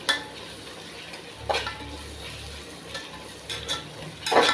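Mint and coriander leaves frying and being stirred in a pan for a butter beans biryani, a soft steady sizzle broken by a few scraping stir strokes of a spoon against the metal, the loudest scrape at the end.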